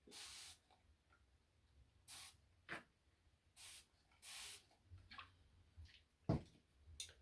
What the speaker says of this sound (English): I'm just going to spray it some more.